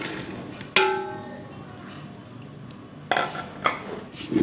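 Vegetables tip into a metal pot with a sharp clank and a ringing tone, then a quiet pause before more clattering knocks of a utensil mixing against the pot, close by.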